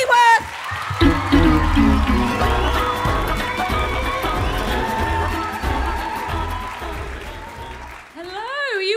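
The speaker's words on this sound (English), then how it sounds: "Put your hands together, start cheering, start whooping." A comedy club audience at the Funny Women Awards in London applauds and cheers a comedian coming on stage, sustained clapping with scattered whoops, while a voice talks over the start and the end.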